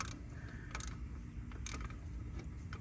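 Ratchet wrench clicking as a bolt is tightened from beneath a car during alternator work, faint and mechanical over a steady low rumble, with a few brief sharper clicks.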